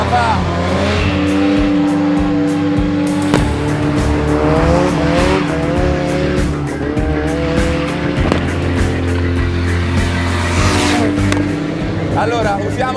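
A Ford Escort MK1 race car with a 540 hp engine revving hard and continuously up close, tires squealing through the run, with people talking over the loud engine.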